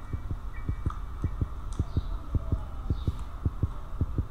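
A steady, thumping heartbeat from the video game Granny pulses in regular double beats under a low hum, with faint creaks and ambient tones above it and no talking.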